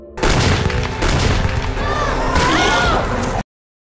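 Colony gate guards fire on attacking creatures in a film scene: loud, dense bursts of gunfire and booms rattle continuously for about three seconds, then cut off abruptly.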